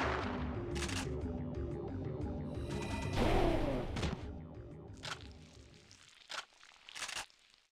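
Gunfire in the video game Parasite Eve II: a dense, noisy rumble of shots and impacts, then several sharp isolated bangs spaced about a second apart, loud and close with no talking.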